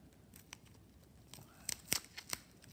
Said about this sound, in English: first, let's unwrap it.